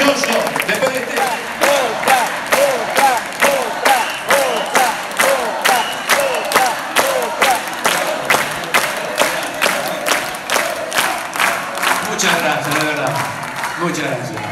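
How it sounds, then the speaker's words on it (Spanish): An audience at a tribute show in Tucumán claps in a strong, steady rhythm, with cheering and crowd noise rising over the beat. The loud rhythmic clapping continues for the whole stretch. "El aplauso bien fuerte, señoras y señores"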